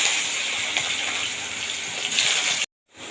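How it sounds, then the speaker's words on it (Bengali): Eggplant pieces drop into hot oil already tempered with nigella seeds and start frying, giving a steady, loud, close hiss that cuts off abruptly into silence near the end before a faint return. "তেলটা ভালোভাবে গরম হয়ে গেছে, একটু কালো জিরে ফোড়নে দিয়ে দিলাম। দিয়ে দেবো এবার বেগুনের টুকরোগুলো।"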